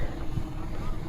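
A boat engine hums low and steady on the water in Thailand, mixed with gusty wind buffeting the microphone, close and continuous.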